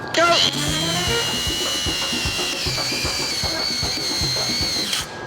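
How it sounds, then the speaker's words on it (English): An angle grinder with a fresh 40 grit flat disc grinds metal close by, whining steadily with a rough rattling chatter after a brief startup, then winding down at the end. "We're going to test centimeters ground per minute with a fresh 40 grit flat disc."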